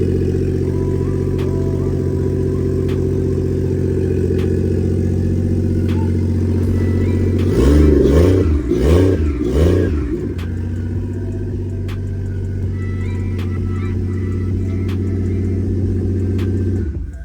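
The 1JZ-VVTi engine in a 2001 Lexus IS300 SportCross, without a downpipe, idles steadily with a low rumble, then revs up a few times in quick bursts before settling back to a smooth idle.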